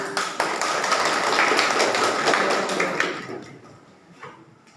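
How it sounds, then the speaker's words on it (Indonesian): Classmates clap for a student in a school lesson, a brief burst of applause that builds quickly, holds for a few seconds, then fades out to a few scattered claps. "sekarang tepuk tangan buat Wibin"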